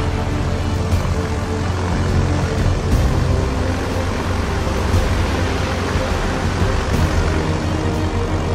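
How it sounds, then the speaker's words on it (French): A helicopter hovers low over a rough, stormy sea, its steady, dense roar of rotor and engine noise mixed with wind and water running loud and unbroken throughout, with faint periodic beats. "maintenir un hélicoptère à une altitude si basse au-dessus d'une mer déchaînée"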